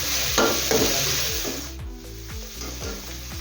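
Vegetables fry in a pan for millet pasta, a steady hiss and sizzle under repeated scraping and stirring strokes of a utensil against the pan.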